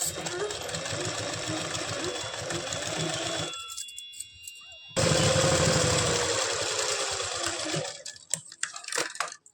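A sewing machine stitches along the leg of plazo pants in two close, rapid bursts of whirring chatter separated by a short pause, ending with a few scattered clicks.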